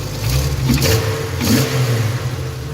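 A cold Jeep TJ engine idles and revs up close, a steady loud mechanical drone with swelling rev surges; any tapping from the bottom end is buried in the engine noise.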